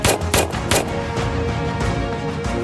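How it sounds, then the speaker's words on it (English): Rapid bursts of gunfire from a video game in a Rambo setting crack out in quick, close, loud volleys over a few seconds. "So the gunshots you hear, folks, is the answers are on dog tags and somebody's shooting the wrong answers"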